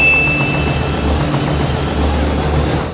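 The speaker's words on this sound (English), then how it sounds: "Will Smith decides that he wants to steal a helicopter to look for his fiancée." A military helicopter from the film Independence Day drones loudly and steadily for the whole span, its thick low rotor throb mixed with a high turbine whine, close and constant with no pauses.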